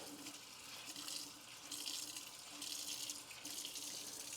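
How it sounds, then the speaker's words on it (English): Tap water runs steadily into a kitchen sink as a sponge is rinsed, a soft continuous hiss with slight surges while the sponge is worked under the stream. "Now I'm going to go ahead and take this and just rinse out the sponge"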